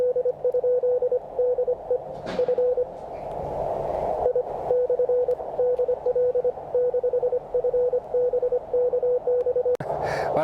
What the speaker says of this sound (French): C'est simplement une tonalité de 600 Hz